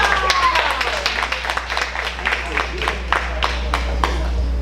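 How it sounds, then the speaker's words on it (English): An audience at a business awards gala applauds, with scattered individual claps and a steady wash of clapping over low room hum, plus a short whistle early on. "keep the applause going as we welcome Gerald and Raymond"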